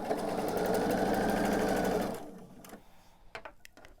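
A sewing machine stitches star quilt blocks in a steady rapid whir for about two seconds, then stops, leaving faint handling clicks.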